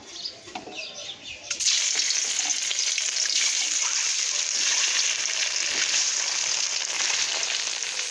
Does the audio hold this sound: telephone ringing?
no